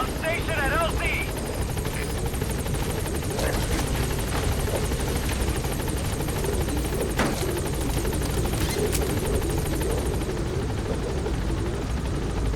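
A helicopter in Metal Gear Solid V thrums loud and close without pause, its rotor chop and turbine whine filling the whole stretch, with faint game effects scattered over the top.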